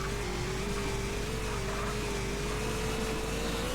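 A motorcycle engine in the MTA San Andreas video game holds a steady, high, even whine at speed, loud and continuous with no pauses.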